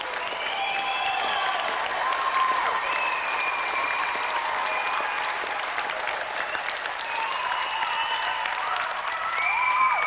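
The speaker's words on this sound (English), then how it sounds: "So let's have a final round of applause for Jamie Brown and tonight's special guest," A TV studio audience gives a long round of applause for a game show guest, the dense clapping holding steady while faint whoops and voices rise now and then in the crowd.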